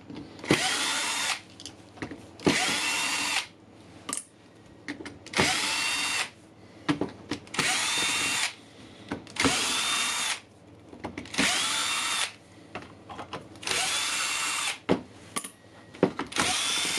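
A power screwdriver unscrews the housing screws of a Dewalt impact driver, whirring in eight or nine loud short bursts of about a second each, separated by brief pauses with faint handling clicks.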